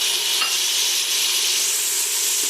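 Masala with ginger-garlic paste sizzles and crackles in a hot pan, a continuous bright frying hiss with faint scrapes of stirring, close and steady.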